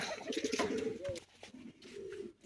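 Pigeons cooing near a rural home, soft repeated throaty coos rising and falling over about two seconds amid light outdoor background noise, fairly close but quiet.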